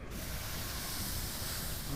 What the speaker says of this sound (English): Can spray that grill down.